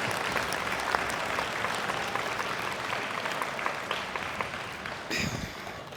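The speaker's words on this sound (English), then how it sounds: "So please give yourselves a round of applause and bask in the recognition you deserve" A graduation commencement audience at a college ceremony applauds, a dense, steady wash of many hands clapping that holds evenly throughout before a brief louder burst near the end.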